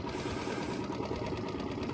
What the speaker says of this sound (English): of course I can't stop the motor